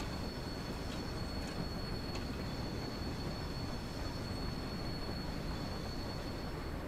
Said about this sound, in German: Ich gebe noch mal ein bisschen Gas, dass wir auf die 20 noch kommen.